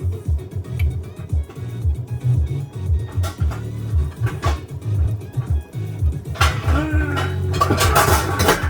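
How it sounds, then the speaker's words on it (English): Pots and pans clatter close by in a kitchen while instant chow mein is prepared, with sharp metallic knocks and scrapes between stretches of low rumble, growing busier and louder toward the end. "when you got pots and pans making noise"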